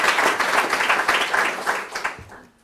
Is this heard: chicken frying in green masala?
no